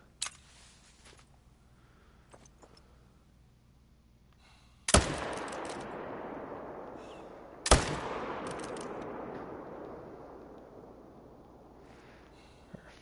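Two loud hunting rifle shots in theHunter: Call of the Wild, about three seconds apart, each a sharp crack followed by a long rolling echo that fades slowly through a quiet outdoor setting.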